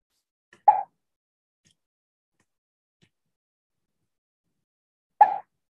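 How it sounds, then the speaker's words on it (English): Two short cartoonish plops of fruit falling in a Scratch game, one near the start and another about four and a half seconds later, separated by silence. "So many more fruits are falling and making sound that way."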